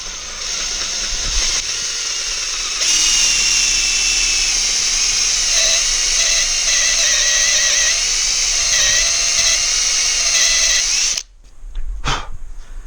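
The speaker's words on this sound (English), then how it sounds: "I'm just going to drill a small hole at the moment" Power drill fitted with a 32mm Forstner bit boring a small hole, a loud continuous high whine that rises in pitch and strains under load, then cuts off abruptly near the end with a brief clunk.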